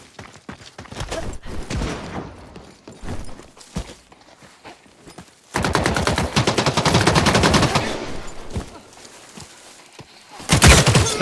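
Gunfire in the video game The Cycle: Frontier: scattered loud shots give way to a sustained burst of rapid automatic fire, then a final heavy volley. The shots are close and dominant.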